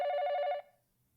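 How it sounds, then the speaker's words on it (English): A telephone bell rings in the video game 428: Shibuya Scramble, one loud, close burst of rapid ringing that stops abruptly and leaves near silence. "The phone rang, cutting him off before he could get down to business."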